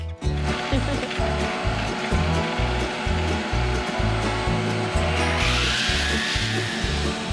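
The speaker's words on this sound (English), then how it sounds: "after an entire day of sanding, we only got about 1/4 of the boat done" A power sander whines steadily against a boat hull, with a low rhythmic thumping underneath and no voices.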